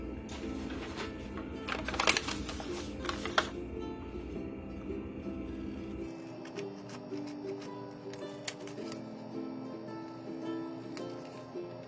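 Scissors cutting through a paper map to make a coaster, close soft snips and paper rustling in an uneven rhythm, louder at first and then quieter, crisp clipping.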